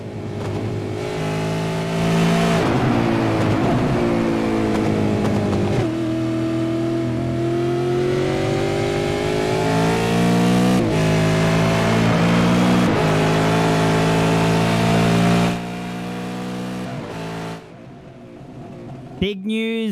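Race car engine heard onboard from a helmet camera on lap 7 of 42 at Motorsport Park during a Goodyear Warana SuperSeries race, loud and sustained as it revs and shifts through gears, then drops away near the end.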